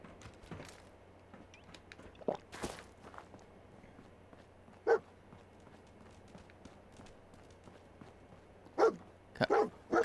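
Dogmeat, the dog companion in Fallout 4, gives a few sharp barks scattered over a quiet game soundscape of footsteps and running, the barks brief and spaced apart.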